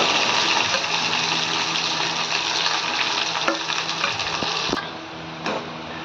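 Tomato chutney tipped into a hot pan and stirred, giving a steady, loud broadband sizzle with scraping stir noises throughout, easing off slightly near the end.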